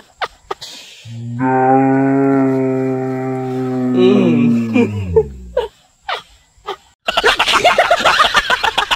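A bull lets out one long, loud, droning moo close by on a farm, ending in snorts and breaths, followed by people talking and laughing.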